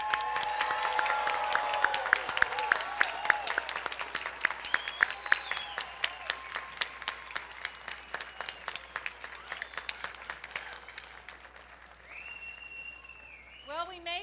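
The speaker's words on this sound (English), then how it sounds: "Please join me in offering a round of applause for all graduates of the class of" A commencement crowd at LaGrange College applauds the graduating class. The applause is a steady, sustained clatter that tapers off toward the end, and some voices and whoops rise over it.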